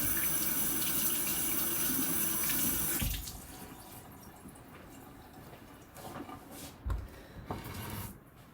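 Tap water runs steadily into a kitchen sink as fresh tomatoes are washed, a loud splashing rush that stops after about three seconds, followed by soft handling and faint drips nearby.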